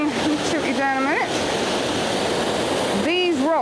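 A waterfall zigzags down over rocks beside a fern, its loud, steady rush continuous throughout while a person talks over it at the start and end.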